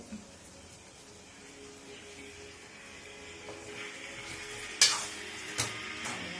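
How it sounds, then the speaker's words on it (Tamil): Eggplant sautéing in a pan for an eggplant and drumstick kulambu, a soft steady sizzle with light stirring, then a sharp utensil clink near the end and a fainter tap after it. "கத்திரிக்காய் நல்லா வதங்கி வெந்துச்சுன்னா"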